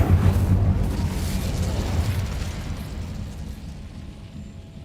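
Incendio fire spell cast in a Harry Potter video game: a loud, rumbling burst of flame that roars at the start and slowly fades over several seconds, alone with no talk.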